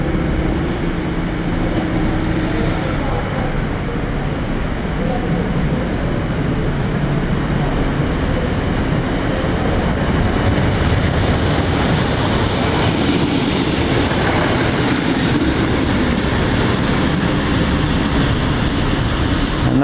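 A small passenger train unit rides its return run from Nuneaton, heard from on board as a loud, steady rumble and roar of wheels and motor that holds the whole stretch.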